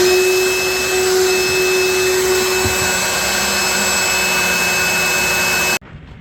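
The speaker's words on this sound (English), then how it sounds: "you see the vacuum come out to keep things cleaned up and clean up 50 years of accumulated" A vacuum cleaner clears away old accumulated dust inside the galley of a C&C 39 sailboat, roaring loudly and steadily close by before it shuts off abruptly near the end.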